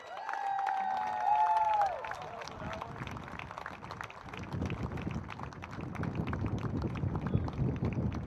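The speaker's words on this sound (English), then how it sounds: "Please join us one last time in a round of applause for the class of" Crowd at a men's college lacrosse senior day game applauding the graduating class, steady distant clapping and cheering across the stands after a brief tonal sound, with faint voices mixed in.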